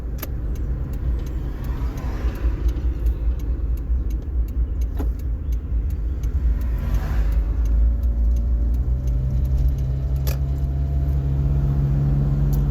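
A car engine hums in a steady, continuous drone in road traffic, with a car sitting in the lane. Faint tonal whines and brief clicks rise over the unbroken low rumble.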